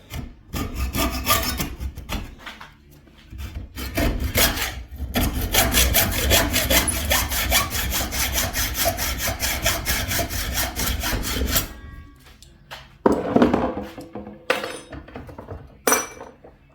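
A hand saw cuts off part of a mountain bike pepper spray holder in long rhythmic back-and-forth strokes, loud and close, then pauses into scattered clinks and a few short rasping strokes near the end.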